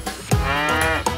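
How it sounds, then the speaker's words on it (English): A cow mooing in a children's farm-animal song, one drawn-out tonal low moo, loud and near, with no voices over it. "Cow!"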